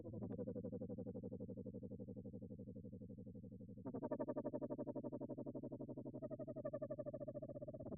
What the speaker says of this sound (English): So we can also control the filter frequency with an LFO. You can get kind of like an auto filter kind of sound.